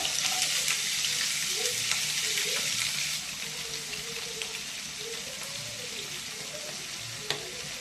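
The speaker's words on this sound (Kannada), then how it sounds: "ಬಾಣಲಿಗೆ ಸ್ವಲ್ಪ 2 ಸ್ಪೂನಷ್ಟು ಎಣ್ಣೆ ಹಾಕಿ ಬಿಸಿ ಮಾಡ್ತಿದ್ದೀನಿ ಎಣ್ಣೆ. ಇದಕ್ಕೀಗ ಫಸ್ಟು ಈರುಳ್ಳಿ ಹಾಕೋತಾ ಇದ್ದೀನಿ." Onions frying in about two spoons of hot oil in a pan make a loud, continuous sizzling hiss with faint crackles and a few stirring clinks, easing slightly partway through.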